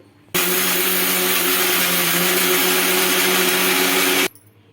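A mixer grinder grinding onion chutney whirs loudly and steadily for about four seconds, starting and stopping abruptly, with a constant motor hum and grinding texture.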